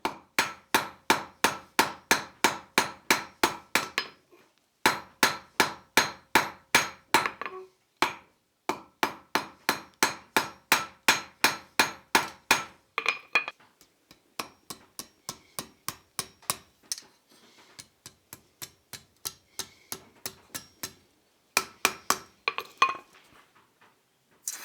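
Blacksmith's hammer forging a steel taper for a J hook on an anvil: long runs of rapid, evenly spaced ringing blows in bursts of about eight to fifteen strikes, separated by brief pauses, close and clear with no talk.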